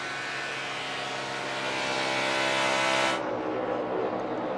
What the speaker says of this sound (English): Should be seeing the white flag next time by for Terrio